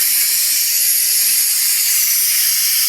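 A pressure cooker holding cooked chicken vents its steam in a loud, steady, unbroken hiss, close by and continuous with no voices over it.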